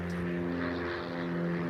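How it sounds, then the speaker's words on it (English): Small propeller plane flying near a small non-commercial airport, a steady droning hum with strong tonal harmonics that holds at an even, moderately close level for the whole stretch, with no talk over it. "close by here, so you'll probably hear a lot of aircraft."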